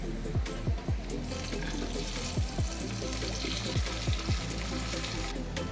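A hot tempering of onion and curry leaves is poured into asthram, a Kerala vegetable curry, giving a steady hissing sizzle with several low bubbling plops through the clip; no one talks.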